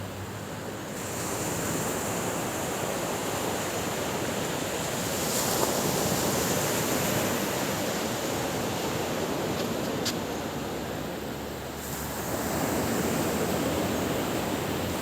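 Steady rushing surf of sea waves washing onto Laem Sing beach in Chanthaburi, Thailand, continuous and fairly loud, with a breezy hiss throughout and no voices.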